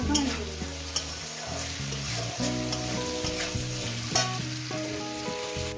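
Mourala fish frying with potato and drumstick flowers in hot oil, a steady sizzle and crackle that runs through the whole stretch, with a few sharper spatters rising above it and no talking.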